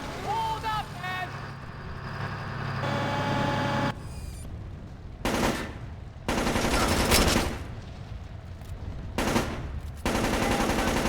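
Enemy gunfire in the stealth game Splinter Cell: Chaos Theory (2005) comes as several loud bursts of automatic fire separated by short gaps, with game noise and talk running underneath.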